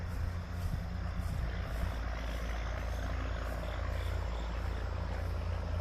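Heavy trucks rumble past outdoors beside a disc golf course, a loud, steady low roar that fills the whole stretch without letup and with no voices over it.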